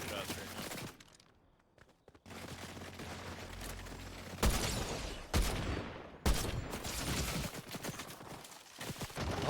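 Gatling gun fire in the Fortnite video game, rapid bursts of automatic shots that cut in and out with short gaps between them, loud and close.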